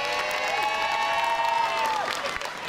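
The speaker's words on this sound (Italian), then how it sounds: "tributerei subito un applauso" A crowd in a town square at the Festa di Sant'Efisio applauds and cheers, a steady wash of clapping overlaid with sustained, gliding voice-like tones lasting the whole moment.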